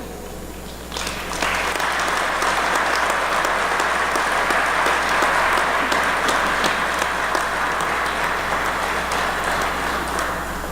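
An audience at a high school athletic hall of fame ceremony breaks into sustained applause for an inductee, the dense clapping starting abruptly and continuing steadily throughout the hall.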